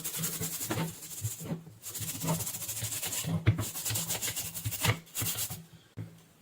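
A brush or swab scrubs a switch-mode power supply circuit board wet with 99% isopropyl alcohol, giving close, uneven rubbing strokes in bursts with brief pauses between them.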